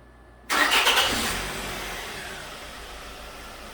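A 2006 Nissan X-Trail engine cranks and catches with a sudden loud start, then settles into a steady idle that fades slightly, heard up close with no talking.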